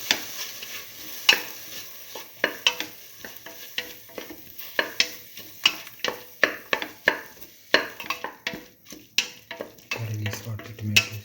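Salted tomatoes and split mung beans are stirred in a pan for a stew, with repeated close scraping strokes of a spoon over a faint sizzle and a low hum near the end.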